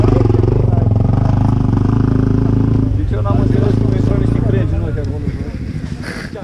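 A Honda Africa Twin motorcycle engine rumbles steadily during an off-road adventure ride in October, a loud low drone that fades slightly toward the end, with talking mixed in.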